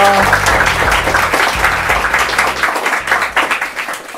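An audience in a studio broadcast applauds, a dense wash of many hands clapping at close range, continuous and fairly loud throughout with a faint voice underneath.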